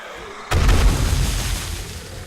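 A pipe bomb explodes in the zombie survival game 7 Days to Die during a night horde defence. One sudden loud boom follows a quiet lead-in, then a rumbling tail fades slowly over about two seconds.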